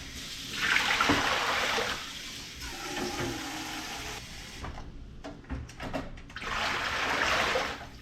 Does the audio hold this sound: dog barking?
no